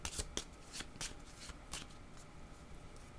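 Tarot cards shuffled by hand in quick, crisp riffles, a rapid run of soft paper slaps and flutters close by at low volume, with no voices.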